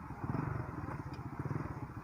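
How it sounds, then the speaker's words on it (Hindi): A motorcycle running and being ridden on a village farm track, its engine putting out a steady, throbbing low rumble that pulses throughout at close range, with a voice speaking over it. "स्टार्ट कर मोटरसाइकिल"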